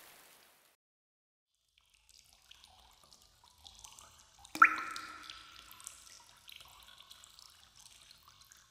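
Water dripping in a quiet room, with a sharp single drop or splash near the middle followed by faint trickling and small scattered drips, set against near silence.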